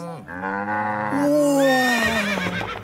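A cartoon horse character's neigh, loud and close, with a long, wavering whinny that rises and falls in pitch; it is likely a voiced imitation rather than a real horse.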